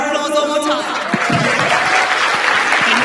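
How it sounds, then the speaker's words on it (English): Audience at a corporate event gives steady, dense applause throughout, loud and close, with a voice talking over the start of the clapping. "A round of applause one more time."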